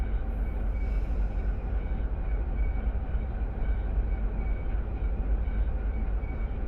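Freight train in the Run8 Train Simulator game braking toward a stop, heard as a steady, loud, continuous low rumble and rolling roar with no talk.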